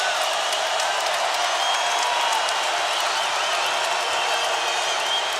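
A basketball arena crowd at a Tennessee versus Vanderbilt college game roars and applauds, a dense, loud and continuous wash of cheering and clapping with no breaks.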